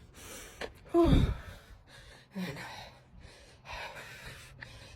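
A person fast-walking a timed mile breathes heavily, with one sharp gasp followed by rougher breaths and puffs at close range, and a brief spoken word.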